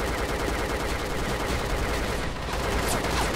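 Continuous, dense gunfire in a shooter video game, a steady rattling barrage that fills the whole stretch at an even, loud level with no pauses.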